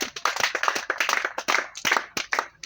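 Congregation in a church clapping for the Lord, crisp rhythmic handclaps in quick uneven bursts, close and lively.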